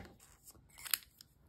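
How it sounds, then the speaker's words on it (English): Sharp Cutter Bee craft scissors snipping paper, a few quiet, close cuts with one crisp snap standing out and softer rustles around it. "Those are some sharp scissors"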